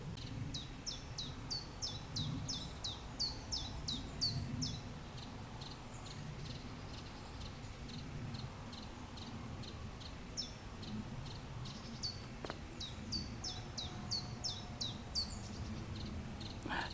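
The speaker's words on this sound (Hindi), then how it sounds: "शाम का वक्त है, चिड़ियाँ चहचहा रही हैं" Birds chirp in the evening in repeated quick bursts of high tweets across a soft, steady woodland ambience, with brief pauses between the calls.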